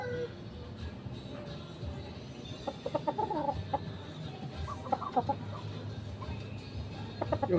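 A broodcock rooster clucks in short bursts over a low background rumble, fairly close, with brief pauses between groups of clucks.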